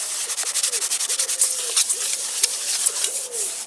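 A mesh bag from onions or potatoes, used as an improvised scourer, scrubs a metal camping plate used as a pan with meat residue. Brisk rhythmic rubbing strokes sound close and fairly loud, steady at first and then more irregular, with no talk.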